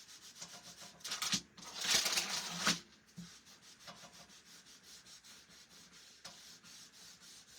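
Wax rubbed by hand across a painted furniture surface, a dry scraping rub in close repeated strokes, with one louder stretch of vigorous back-and-forth rubbing partway through.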